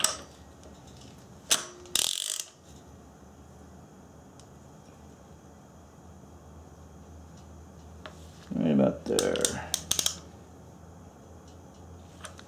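A ratchet fitted with a 17 mm socket turns a Subaru 2.5L engine clockwise during a rebuild, giving a few short bursts of clicking near 2 seconds and again around 8–10 seconds, close by and otherwise quiet.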